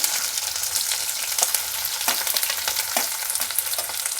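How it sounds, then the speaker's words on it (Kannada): Mustard seeds fry and crackle in hot oil for an onion dish, a steady close sizzle broken by sharp popping bursts. "ಈಗ ನಾನು ಎಣ್ಣೆ ಕಾಯ್ದ ಮೇಲೆ ಸಾಸಿವೆ ಹಾಕ್ತಾಯಿದ್ದೀನಿ"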